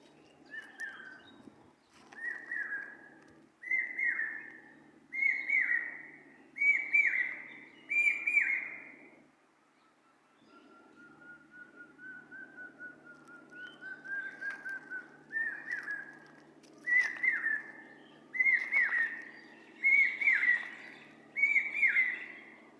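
Birds singing in quiet forest in Bangladesh, a repeated series of clear whistled phrases rising and falling in regular bursts, with a short pause midway, fairly close against a faint low background.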